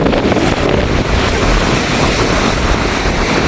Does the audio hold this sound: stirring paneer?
no